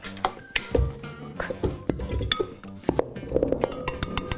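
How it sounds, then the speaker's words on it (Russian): A whisk works flour and baking powder in a bowl, rattling and clinking against the sides in quick irregular taps, close and fairly crisp with no talking. "Все это перемешиваем венчиком."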